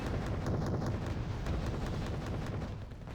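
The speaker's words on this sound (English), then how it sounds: "Mi-17s unloading those huge rockets" Mi-17 helicopters firing salvos of rockets in the video game Wargame: Red Dragon, a rapid string of rumbling launches and blasts merging into a continuous roar for a few seconds.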